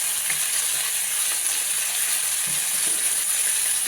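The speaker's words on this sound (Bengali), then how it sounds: "হালকা পাতলাকে মশলাটা কষিয়ে নেবো আলু বেগুনের সাথে" Ground ginger and cumin paste fries with potatoes and eggplant in a hot pan, giving a loud, steady sizzle that holds unbroken throughout, with faint scraping from stirring underneath.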